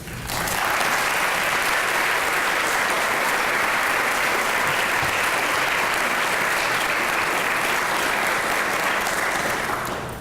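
An audience at a college lecture applauds steadily to welcome speaker Jack Goldstone, a dense, even wash of clapping that holds for about ten seconds before tapering at the end.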